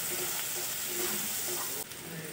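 Onion and garlic fry in a pan, giving a dense, close sizzle that runs throughout and turns slightly quieter near the end, with no voices.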